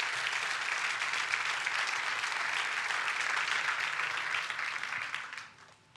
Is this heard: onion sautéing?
no